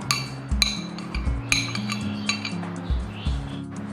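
Mango pieces and mint leaves dropped into a steel mixer jar for chutney, giving a series of clinking, knocking metallic taps at irregular intervals, close and fairly quiet, with no talking.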